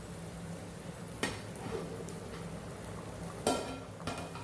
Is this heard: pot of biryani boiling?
yes